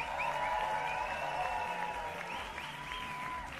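Audience at the Bündner Music Award 2019 applauds an album honoree, a steady distant crowd of clapping with a sustained musical tone and a few sliding whoops above it, fairly quiet overall.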